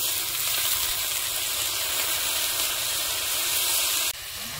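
Potatoes hit a dry pan with whole dried chillies and cumin, setting off a loud, close, steady sizzle and hiss of frying that holds evenly and then drops sharply near the end.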